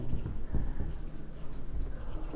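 Scratchy strokes of writing on a board during a maths lesson on vector algebra, continuous rubbing marks in quick succession, close and fairly loud with no speech.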